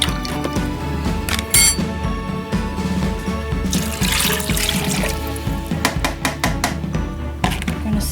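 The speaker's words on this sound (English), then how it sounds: "And then I'm going to pour in this broth right here." Broth pours into a slow cooker already holding soup and onion soup mix, giving a steady liquid splash and trickle with a few brief clinks, close to the microphone.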